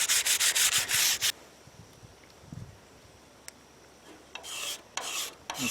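A wooden bow is sanded by hand with 120 grit sandpaper in quick bursts of rhythmic rasping strokes at the start and end, separated by a quiet stretch with faint scraping.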